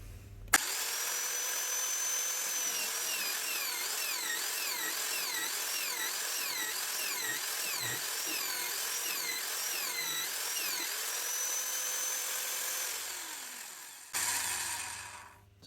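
A magnetic drill bores a hole in steel plate, lubricated by hand without flood coolant, while fabricating a pallet fork and bale spike attachment. A loud, steady motor whine with wavering cutting tones runs close and unbroken for about fourteen seconds, then cuts off.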